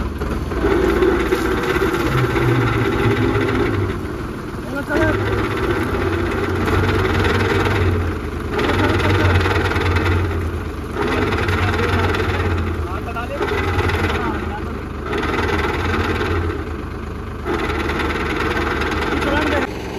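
Mahindra XUV300 SUV engine revving while driving on sandy terrain near a farm, a steady loud drone with rhythmic surges that rise and fall every few seconds, heard under ongoing talk from people nearby.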